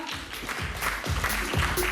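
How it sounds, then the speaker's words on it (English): An audience at a political youth committee installation event applauds, a steady wash of clapping with a few sharper claps standing out, moderately distant and fairly soft. "you put your hands together and give them a big cheer"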